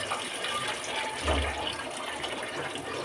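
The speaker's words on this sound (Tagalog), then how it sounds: "O yung tubig." Water gushes steadily into a cooking pot on a stove, a continuous close pour that swells briefly in the middle, with no talking over it.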